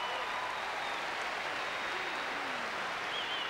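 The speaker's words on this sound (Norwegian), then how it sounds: "Og ja, de kan godt få en applaus." Steady, dense applause from a large audience at the 1992 Norwegian Melodi Grand Prix song contest, a continuous loud wash of clapping with no gaps across the whole stretch.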